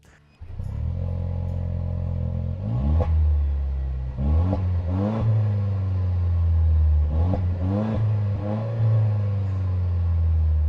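Four-cylinder exhaust of a Toyota Land Cruiser 250, a steady low drone that swells into repeated throttle blips and revs, loud and close with no talking.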